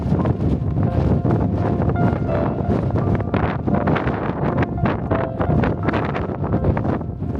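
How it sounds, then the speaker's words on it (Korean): Strong wind roaring across the rime-covered summit of Deogyusan mountain in winter, a loud, continuous broadband rush with heavy gusts buffeting the microphone and no speech. "설천봉의 하얀 세상을 만들었던 바람은 또 다른 설국을 만들려는 듯 백두대간길을 향해 빠르게 이동합니다."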